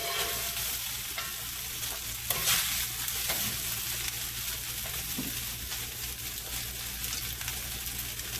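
Fried rice with steak, shrimp and chicken sizzles steadily in an oiled pan, with intermittent scraping and stirring of the spatula through the mix, close and continuous with no voices.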